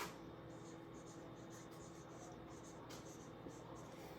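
Pen scratching on paper while a diagram is sketched by hand, soft repeated strokes in short rhythmic bursts, close but faint against a quiet room hum.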